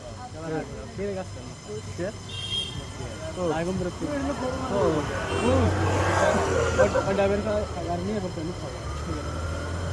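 A car rolls in to park with a low engine rumble that swells toward the middle, heard under continuous nearby conversation.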